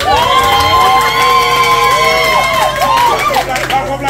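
A lively crowd at a Haitian anniversary celebration cheers and whoops loudly, with high shouting voices and a steady roar of applause filling the room throughout.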